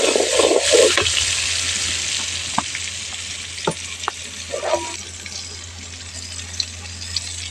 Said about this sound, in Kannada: ಎಣ್ಣೆ ಕಾದಿದೆ. ಶುಂಠಿ ಬೆಳ್ಳುಳ್ಳಿ ಪೇಸ್ಟ್ ಹಾಕಿದ್ದೀನಿ.